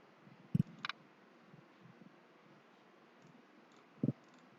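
Computer mouse clicks while working in an online course system, a quick double click early, another pair shortly after, then a lone double click near the end, crisp and close against a quiet background.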